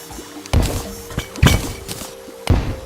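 Explosions in the Terraria video game go off as a few heavy thuds spread across a short stretch, each a sharp broadband burst with a low rumbling tail, loud and fairly close.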